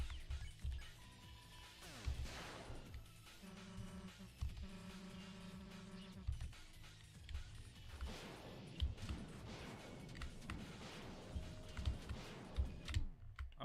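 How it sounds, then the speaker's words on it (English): Computer keyboard keys clatter in quick, uneven bursts of light clicks while someone plays an Undertale fight against the Roaring Knight, half buried under busy game music and effects. "I'm forgetting where the keys on my keyboard are now."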